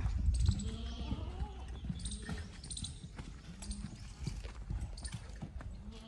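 A newly bought horse tethered outdoors, its hooves clip-clopping in irregular, fairly close knocks with low rumbling noise around them, under quiet talk.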